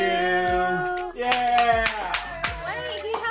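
Hands clap at a family birthday celebration, several sharp claps landing over a singing, musical background with voices present.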